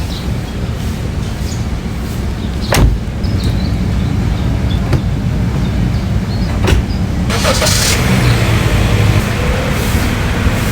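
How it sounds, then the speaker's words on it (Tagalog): Inside a moving car on a wide road in Zambales, a steady loud road and engine rumble runs throughout, broken by a few brief clicks and knocks from the cabin. "So, si Chelsea nagda-drive sa amin ngayon."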